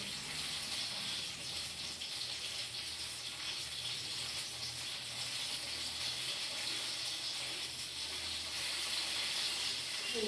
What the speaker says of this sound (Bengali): পাপড় ভাজা হচ্ছে ছেলে